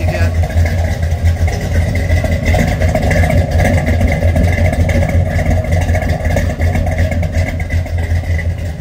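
A 1965 Pontiac GTO engine runs steadily with a deep, loud low rumble and a slight uneven lope, holding constant without pauses; a faint voice may sit under it.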